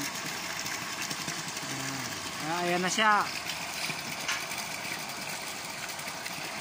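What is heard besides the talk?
engine running an injector pump for water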